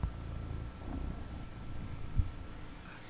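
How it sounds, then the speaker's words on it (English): A cat purrs close by, a soft, steady, low rumbling that pulses gently throughout. "Listen to his purring"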